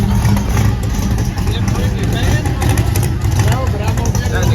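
A car's engine idles loudly at an outdoor car meet, a steady low rumble running under a crowd of people talking nearby.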